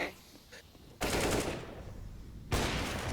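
Automatic rifle fire sprays in two loud, sustained bursts during a Counter-Strike match, each burst starting abruptly and rattling on under faint background noise.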